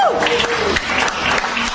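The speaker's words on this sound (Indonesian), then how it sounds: "tepuk tangan buat Tuhan Yesus." Brief burst of audience applause at a religious gathering, a short dense patter of clapping with a swooping tone at the start and faint voices mixed in.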